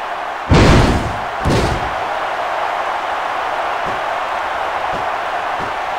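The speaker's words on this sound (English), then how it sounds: "What a huge power bomb." Power bomb slam in a WWE wrestling video game: a heavy thud followed by a second, smaller impact, then a steady roar from the arena crowd with a few faint knocks.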